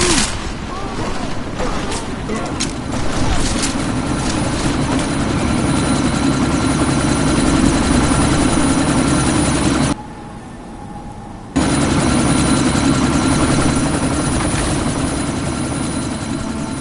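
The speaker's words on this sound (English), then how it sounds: "That chopper's about to take off!" A helicopter's rotor and engine drone loudly and continuously as it lifts off in the video game Deus Ex: Mankind Divided, with a brief cut near the middle and gunfire-like bursts and game voices mixed in.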